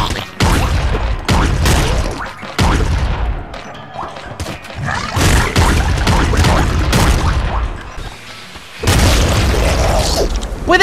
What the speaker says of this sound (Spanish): Puede que ahí me hayan matado una explosión.